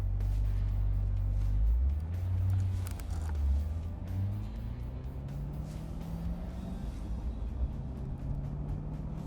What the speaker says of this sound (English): As you can start to hear some of the exhaust throttle noise, it's really gets your heart pounding.